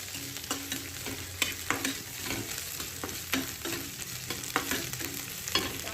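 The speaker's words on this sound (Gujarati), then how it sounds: "કોબી નાખીશ, ગાજર નાખીશ. આને આપણે સાતળી લેવાનું છે." Shredded cabbage and carrot with capsicum are stir-fried in a pan, a continuous soft sizzle broken by regular clacks and scrapes of a spatula tossing the vegetables, close and fairly quiet.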